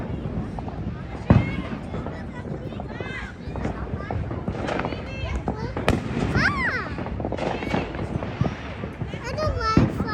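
Fourth of July fireworks pop and crackle in irregular bursts for several seconds, fairly close, while people and children talk and move around nearby throughout.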